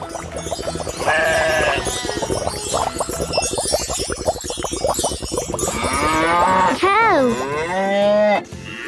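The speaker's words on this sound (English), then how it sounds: "Cow." A cow moos loudly and close, long low drawn-out lowing calls with a rising, wavering ending, mixed with some bleating in the background.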